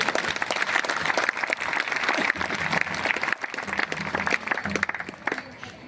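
A crowd at a Republic Day gathering in Rourkela gives loud, dense applause for a district gram sabha coordination committee, sustained for several seconds before tapering off slightly.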